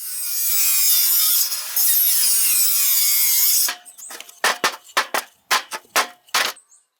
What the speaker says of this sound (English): With great care, he cuts grooves into the planks.